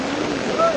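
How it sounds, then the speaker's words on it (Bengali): Fast-flowing floodwater rushes near a bridge footing in Ramchandrapur, Chauddagram, Cumilla, a broad steady roar of churning water with wind buffeting, close and continuous through the short moment. "প্রচুর স্পিড পানি।"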